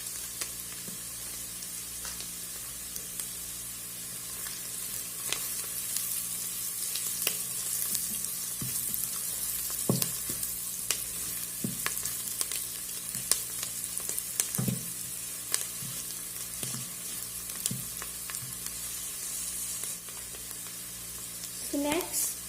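Chicken cubes sizzle with onion in a pressure cooker pot, a continuous frying hiss broken by sharp utensil clacks and stirring scrapes, near and fairly quiet.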